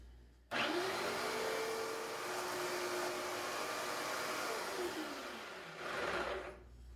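A small power saw cuts a 3/8 inch poplar dowel into short plug sections. The motor starts abruptly and runs as a steady close whine, with the pitch dropping under load during the cut, then spins back up before stopping.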